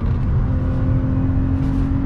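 A BMW E36 320i coupe engine pulls hard under steady acceleration on a curvy road, a loud, continuous interior drone with strong low harmonics and no talk over it.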